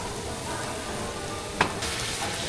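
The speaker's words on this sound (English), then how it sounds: "Stir frying it up." Steady, dense sizzling of scallops, garlic and vegetables stir-frying in a hot pan, with a brief clink of a utensil partway through; no voices.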